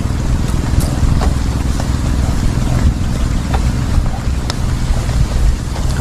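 Strong wind buffets the microphone out at sea during airgun fishing, a constant low roaring rumble with occasional faint clicks, loud and unbroken for the whole stretch.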